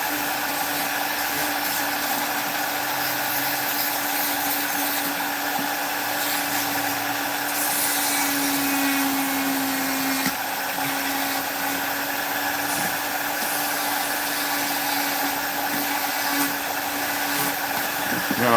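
A rotary tool with a 1/4 inch burr carves into wood, a continuous high motor whine with a grinding, rasping texture, close and steady throughout.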